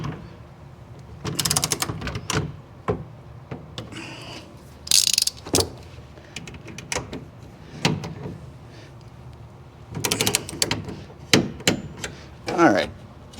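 A hand ratchet clicks in quick bursts as bolts are tightened on a BAK Revolver X4s bed cover on a 2024 Ford F150 4x4 5.0L, with rattling and metallic clunks between runs, close and clear.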